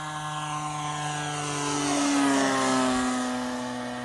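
A 1/4 scale Great Planes RV-4 radio-controlled airplane flies low past, its steady propeller engine drone rising and shifting in pitch as it nears and passes, with no talk.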